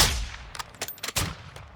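Sharp synthetic sniper gunshot in Call of Duty: Modern Warfare 2 with a decaying tail, followed by a few quick clattering impacts and a second burst, close and loud.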